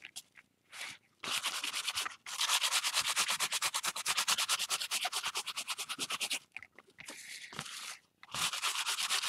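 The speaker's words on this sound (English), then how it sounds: "Grab my sandpaper." Sandpaper rubbed over a painted canvas heart layered with paint, making continuous rapid raspy scratching strokes in long close bursts with brief pauses.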